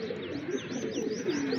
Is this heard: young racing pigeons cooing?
yes